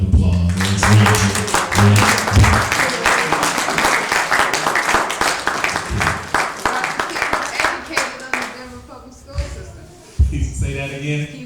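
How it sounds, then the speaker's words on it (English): An indoor audience at a speaking event in Denver breaks into dense, sustained applause that thins out toward the end, with a speaker's voice heard over and after the clapping. "Give him a round of applause."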